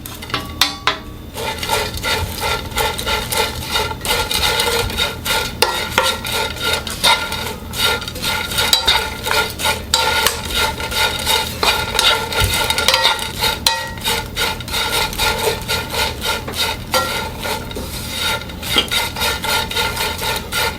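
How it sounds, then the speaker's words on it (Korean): Anchovies stir-fried in a pan over low heat, with a continuous rapid scraping and rattling of a utensil against the pan, dense clicks throughout, close and fairly loud, no voices. "멸치를 넣고 약한 불에서 한 2분 정도 볶아줄 겁니다."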